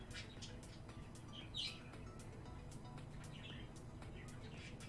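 Small pet bird making faint, short chirps scattered through a quiet indoor room, with low background hum and no talking.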